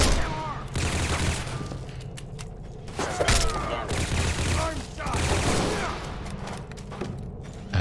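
Dense gunfire bursts crackle through a synth ambush in the video game Fallout 4, with rapid overlapping shots and some booming impacts, loud and continuous throughout.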